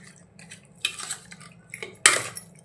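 Chicken pieces are mixed in a metal dish with salt and turmeric, giving soft clinks and scrapes, with two sharper clatters partway through.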